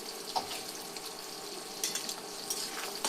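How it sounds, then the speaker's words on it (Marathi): Tomatoes sautéing in plenty of hot oil for kanda poha give a soft, steady sizzle with faint stirring clinks, moderately close and without talk. "तेल तर भरपूर गरम झाले. आता मस्त एकजीव करून घेते पूर्ण हे टमाटर"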